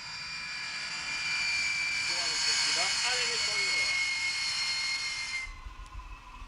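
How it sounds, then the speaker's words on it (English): A loud, steady roaring hiss of high-pressure steam, escaping at twice the speed of sound, rushes for several seconds, then cuts off abruptly, leaving a low rumble behind. "The steam, when released, escapes at 2 times the speed of sound"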